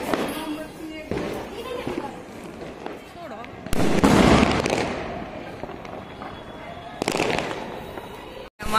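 Diwali firecrackers and fireworks burst in loud, sharp cracks and booms, several separate blasts with a large one near the middle, while voices are heard in between.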